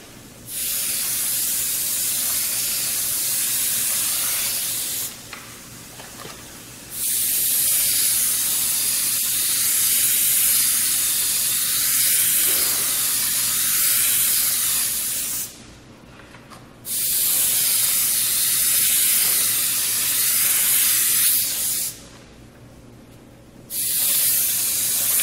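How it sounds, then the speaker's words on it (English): Airbrush spraying paint onto an object from a short distance, long loud bursts of hissing air broken by brief pauses between passes, with no talk. "I'm going to spray it a little bit at a distance"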